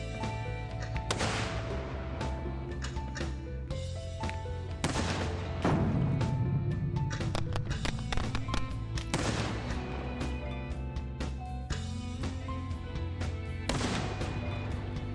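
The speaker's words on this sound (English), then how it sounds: "Oh, explosion." Explosions in the video game Press Any Button, a string of loud booms and blasts punctuating a continuous musical score across the whole stretch.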